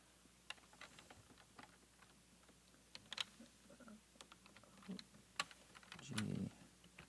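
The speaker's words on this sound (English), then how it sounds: "This is the one part that I will type in." Typing on a computer keyboard, scattered soft key taps with irregular pauses, faint and close, with a brief thump near the end.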